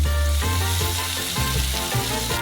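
Ground beef sizzles loudly in a pan while a spatula breaks it apart, with a continuous crackle and a few rhythmic scraping pushes, no voices.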